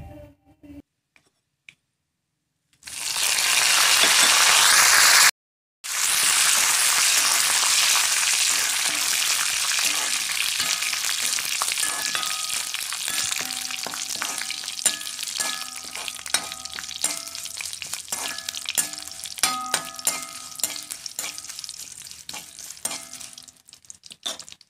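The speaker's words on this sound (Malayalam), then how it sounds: "വെളിച്ചെണ്ണ ചൂടായി അതിലേക്ക് കടുകും ഉലുവയും ഇട്ട് നല്ലോണം പൊട്ടിക്കുക." Mustard and fenugreek seeds sputter in hot coconut oil, a loud, dense sizzle with scattered sharp popping crackles that keeps going for about twenty seconds after a brief quiet start and a short break.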